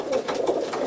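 Racing pigeons from a breeding loft, Mateus and Morris Mateus line birds, cooing in a steady overlapping murmur, several soft throaty coos rolling one into the next, close and fairly loud with no talk.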